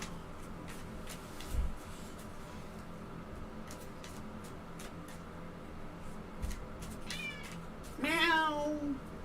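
A house cat meows near the end, a single clear drawn-out call with falling pitch, preceded by a faint chirp and light shuffling indoors.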